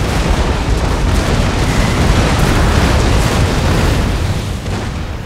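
Rolling cannon broadsides from a 106-gun ship of the line in a Napoleonic naval battle in Napoleon: Total War, a dense, continuous roar of heavy booms blending into one loud, sustained rumble with no pauses.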